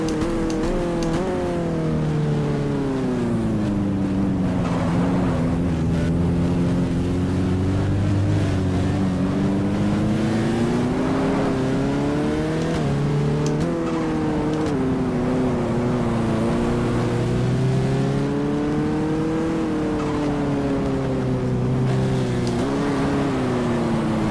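Race car engine held at low revs in the GTR2 racing game at Fuji Speedway, a steady loud drone rising and falling gently with throttle throughout, no talking over it.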